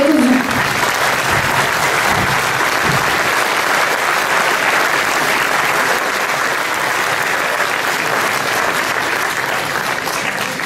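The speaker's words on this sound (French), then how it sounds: "Je vais vous demander d'applaudir le maire de Boulazac et le président de l'agglomération de Périgueux" An audience at a political rally in Boulazac applauds the town's mayor with sustained, dense clapping that fills the hall for about ten seconds, with a few voices briefly at the start.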